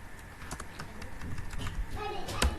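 Someone types code on a computer keyboard, quick light clicks in an irregular run, fairly quiet and close, with a few louder keystrokes near the end.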